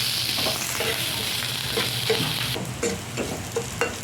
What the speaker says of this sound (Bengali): হালকাভাবে নেড়ে চেড়ে নিচ্ছি।